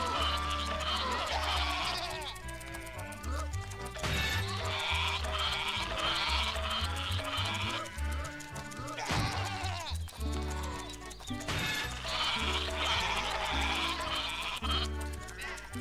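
Sheep bleating in the Rayman Raving Rabbids video game, repeated bleats over busy game music and effects throughout, loud and continuous.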